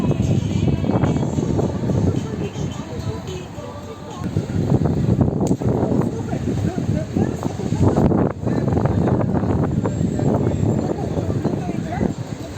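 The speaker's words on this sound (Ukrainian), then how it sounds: "там дуже сильний вітер" Strong wind by the sea in Odesa buffets the microphone with a constant deep rumble and gusty roar. Brief quieter lulls break the sustained noise.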